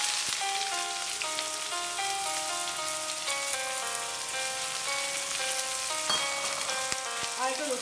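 Chopped onions frying in hot oil spiced with cloves for a mutton curry, a steady close sizzle with crackling and faint stirring, and no talk.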